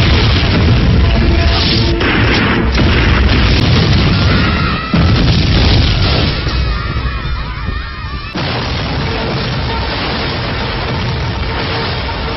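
A loud, sustained roar of a movie-scene explosion blast fills the clip, dense and booming with rumbling debris and a brief dip midway, with no speech over it.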